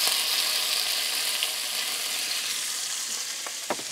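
Beef searing in clarified butter inside a Dutch oven gives a steady, bright, hissing sizzle throughout, with a few faint clicks near the end and no one talking.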